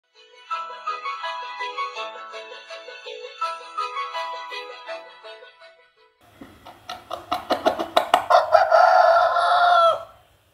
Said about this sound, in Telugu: మెడ సాగతీసి రెక్కలను టపటపలాడిస్తూ హుషారుగా కూసింది కోడిపుంజు